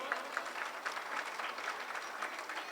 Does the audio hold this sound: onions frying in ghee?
no